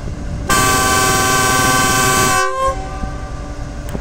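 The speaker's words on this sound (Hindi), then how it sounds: "तो आपको मिलत एक्सप्रेस का डिपार्चर व्यू दिखाते हैं और अभी आप इसके साउंड को एंजॉय करें" A loud, near horn blast of about two seconds comes from a GU40 American diesel locomotive hauling the departing Millat Express, followed by rumbling train noise.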